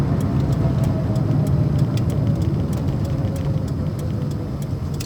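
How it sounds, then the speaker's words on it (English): A Peugeot 205 heard from inside while driving: steady, fairly loud road and engine rumble with general cabin rattle and ambient noise, plus a faint regular ticking like an indicator, no speech. "I forget how noisy cars used to be. Has a lot of kind of ambient noise."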